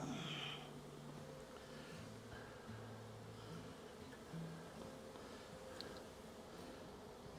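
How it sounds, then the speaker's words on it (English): Honey bees swarm around an open three-frame mating nuc during a hive check, a steady, dense buzzing that hums close and continuously with a few louder passes near the start. "Bees everywhere."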